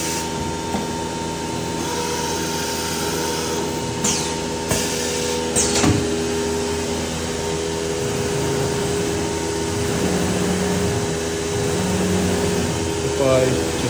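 EK 1228 C CNC router running a tool change: a constant mechanical hum and whir with a few sharp clicks and clunks partway through, close and steady throughout.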